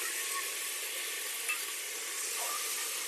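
Mild green chillies frying in a pan for tomato bath give off a soft, even sizzle that holds steady throughout, close but fairly quiet, with no talking.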